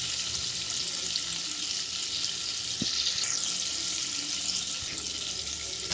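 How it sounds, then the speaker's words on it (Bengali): Garlic frying lightly in a pan on very low heat, a steady soft hiss of sizzling close by, with one or two faint knocks from stirring. "রসুনটাকে হালকা ফ্রাই করবেন, বেশি ফ্রাই করবেন না, হালকা ফ্রাই হবে রসুনটা"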